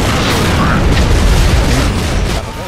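A frag grenade goes off in a video game match, a loud, booming blast with a rolling low rumble that fades out over a couple of seconds.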